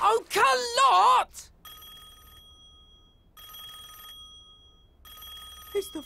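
A telephone rings in repeated electronic trills with gaps between them, moderately loud, after a cartoon character's excited shouting at the start and a brief voice at the end.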